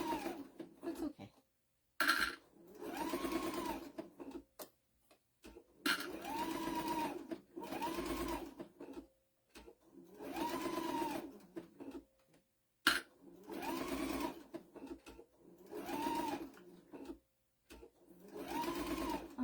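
An Epic 2 sewing machine stitching in short bursts of whirring, each a second or two long with brief pauses between, close and clear with no talk.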